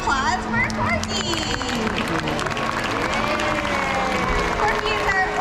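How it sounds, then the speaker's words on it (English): A large crowd at a SeaWorld orca show claps and cheers steadily for Corky the killer whale, dense continuous applause with excited voices mixed in throughout. "Everyone, give a round of applause for Corky."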